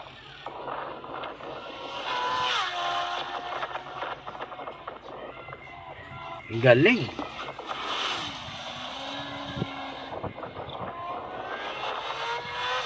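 Enduro-style motorcycles rev and drone on a rice farm in Thailand, engines rising and falling with a louder close pass midway, and a voice briefly speaks over them.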